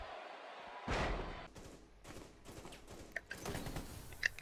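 A single gunshot from a video game headshot, a sharp loud crack followed by a decaying rumble, then several softer thumps and clicks of game action.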